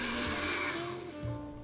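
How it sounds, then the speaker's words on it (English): A countertop blender whirs loud and steady, puréeing fresh raspberries and cooked beetroot, its motor pitch shifting slightly as the mix smooths out near the end. "Fresh raspberries and cooked beetroot go straight into the blender."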